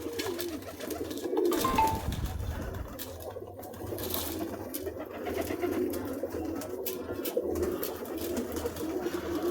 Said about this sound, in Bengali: এটা মনে হচ্ছে অন্য প্রজাতির কবুতর